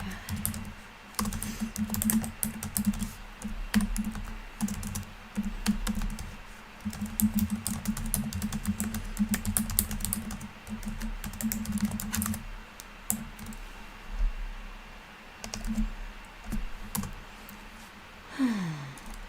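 Someone types on a computer keyboard in an uneven flurry of fast clicks. A faint room hum runs under the keystrokes throughout.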